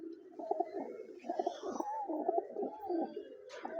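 Sakhi teddy pigeons coo close by in overlapping, throaty rolling calls that repeat steadily with no one talking.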